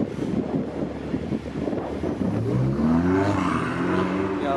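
A Ferrari 488 engine rumbles and rises in pitch as it accelerates nearby, heard through gusty wind buffeting the microphone.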